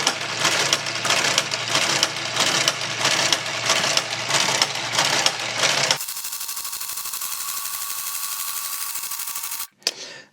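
A Brother KG88 knitting machine runs with loud, rhythmic mechanical bursts as the carriage passes back and forth. It then settles into a steady motor whir before a final clunk.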